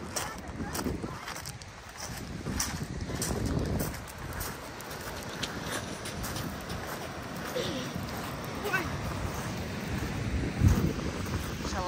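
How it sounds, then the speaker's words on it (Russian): Steady roar of Pacific Ocean surf at Olympic National Park in fog, with wind buffeting the microphone, a continuous broadband wash of waves throughout. "Смотрите, какие волны."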